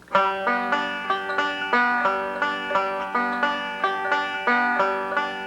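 A five-string banjo plays a bluegrass forward-backward roll with the thumb landing on the third string, a steady stream of bright plucked notes repeating in an even pattern, close and clear with no talking.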